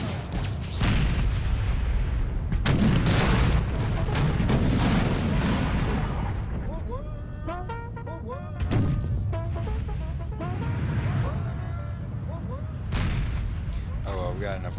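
Booming artillery fire in Empire: Total War's American Civil War mod, with heavy cannon blasts repeating every few seconds over a constant roar of battle and scattered gunfire.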